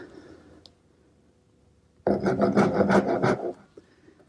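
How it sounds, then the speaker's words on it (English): A small dovetail saw rasps through a wood corner in a short burst of about six quick back-and-forth strokes, close and clear, preceded by quiet room noise and a faint click. "I like to take my little dovetailing saw and come to each corner and just make a little saw cut, maybe about 1/4 of an inch deep"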